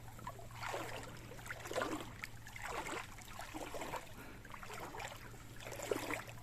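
Water at a Roman ford in a British river, sloshing and swirling in rhythmic surges as someone wades through, with a steady low hum beneath.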